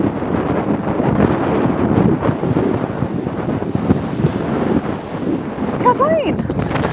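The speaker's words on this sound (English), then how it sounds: "It's very windy here." Heavy wind on a beach buffets the microphone with a constant low roar and rumble, loud throughout, with a brief whistling tone near the end.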